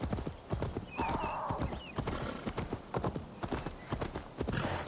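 A horse gallops and neighs in Assassin's Creed Valhalla, with rapid, loud clip-clopping hoofbeats throughout and a whinny rising near the first second.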